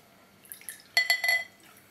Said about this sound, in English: Okay, pour carefully.